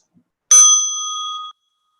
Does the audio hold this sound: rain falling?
no